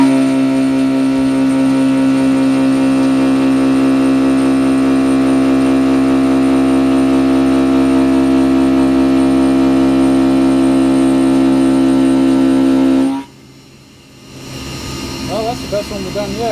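A machine spindle cuts steadily at 4,160 RPM with an 880 mm feed, a loud sustained tonal whine with harmonics that stops abruptly near the end, leaving quiet shop noise.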